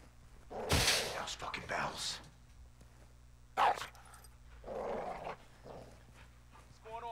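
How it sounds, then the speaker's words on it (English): In the video game Modern Warfare II, a caged dog growls and barks in a few loud bursts spread over several seconds, with quieter game ambience between them. "You see the caged dog?"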